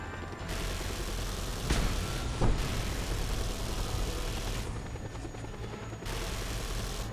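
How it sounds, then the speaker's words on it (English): Helicopters in the video game Just Cause 2, a steady loud rotor and engine drone running throughout, with a couple of sharp bursts like gunfire or impacts near the middle. "Problem, there will now be many more helicopters."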